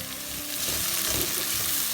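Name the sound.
roasted tomato wedges added to sizzling pan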